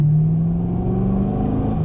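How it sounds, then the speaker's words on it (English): A 2009 Chevrolet Corvette C6 3LT with a loud exhaust, heard from inside the cabin: a steady, deep, droning engine rumble with no voices. "I don't know if you can hear the noise from the exhaust, which I was telling you is loud, even inside the car"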